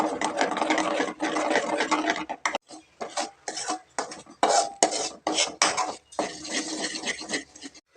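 Eggs with tomato and onion are stirred in a pan, a spoon scraping and clattering against the metal in close, uneven bursts separated by brief pauses, with no talking.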